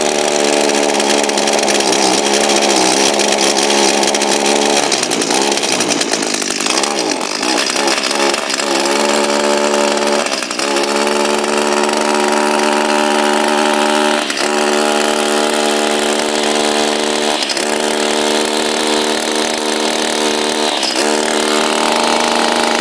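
An Echo SRM230 line trimmer's small two-stroke engine runs loudly and continuously, failing to reach full RPM and wavering in pitch with several dips and surges throughout.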